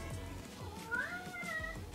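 A cat meows a few times indoors in a snowy-weather home setting; the rising and falling cries are clear and close over a low background hum.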